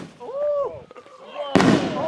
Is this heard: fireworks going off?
yes